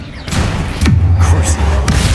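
Confringo and Bombarda spell explosions in a Harry Potter video game, a couple of heavy booming blasts with a rumbling low tail, loud and close, while a voice shouts spell names over them.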